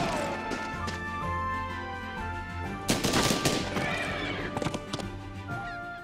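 Gunfire opens in Banner of the Maid, a sudden loud crackling volley about halfway through with a few sharp follow-up shots, over game music; a horse neighs before the shooting starts.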